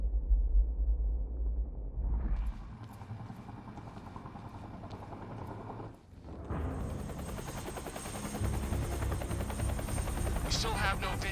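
A helicopter flying overhead in a video game makes a loud, continuous rotor thump and engine whine that swells after a brief dip, with game effects mixed in.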